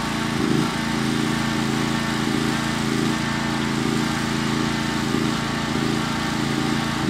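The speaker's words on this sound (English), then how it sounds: "And now he's actually mowing." A new lawn mower drones steadily as it mows up a hill, its engine loud, close and unbroken throughout.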